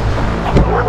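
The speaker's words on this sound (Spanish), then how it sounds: "Este perro." A dog barking at an abandoned hotel, a single short bark rising out of a dense, loud background over less than a second.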